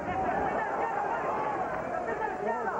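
A boxing arena crowd at a Julio Cesar Chavez vs Willy Wise bout, a loud, continuous roar of massed voices that swells into a chant for Chavez, steady throughout with no single voice standing out.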